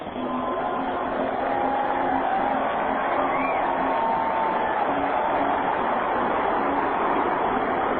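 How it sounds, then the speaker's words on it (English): A ballpark crowd roars steadily at a minor-league Springfield Cardinals game after a home run, a broad sustained cheer that holds at even loudness for several seconds, with a faint aircraft flyover drone blended in. "The biggest cheer for a Cardinal tonight."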